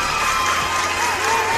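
A studio crowd applauds and cheers loudly and continuously at a comedy show, with dense clapping and shouts over the whole brief moment.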